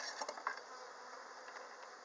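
Honey bees buzz steadily at an open hive during an inspection, a continuous soft drone with a few brief nearer passes at the start, quiet and without talk.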